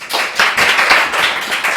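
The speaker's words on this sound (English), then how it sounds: "A round of applause, please" Lively applause for a participant at a cooking challenge event, a steady patter of many hands clapping close by, with no voices over it.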